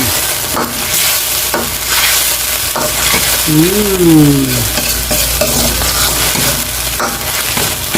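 An egg dropped into a hot frying pan with loud, close sizzling and scraping stirring strokes throughout, a constant crackling frying hiss with no talk.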